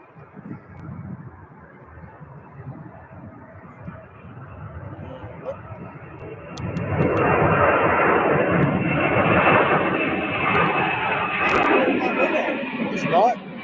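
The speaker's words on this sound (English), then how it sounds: "taking off right behind this Go Jet is a UPS 767-300" UPS Boeing 767-300 taking off at Louisville airport, a quieter low rumble that swells midway into a loud sustained jet roar, with people talking over it.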